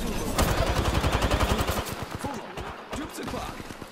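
Rapid automatic gunfire in the battle royale game Apex Legends, a dense rattling burst that runs for about two seconds, then scattered single shots and softer bursts, with voices talking over the shooting.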